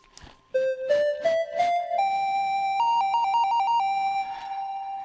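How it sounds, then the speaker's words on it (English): Ocarina phone app played by blowing into the phone's microphone, producing clear, pure flute-like tones in a stepped melody of short and held notes, close and fairly loud, with faint breathy onsets. "And this is ocarina, and it's played like this."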